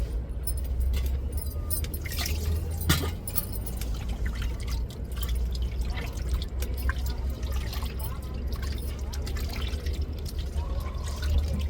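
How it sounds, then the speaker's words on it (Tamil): Tamarind squeezed and dissolved in water by hand, a soft continuous wet squelching and trickling with faint clinks, low and close under a steady background hum. "நம்ம அதுக்குள்ளே புளியை கரைச்சிருவோம்."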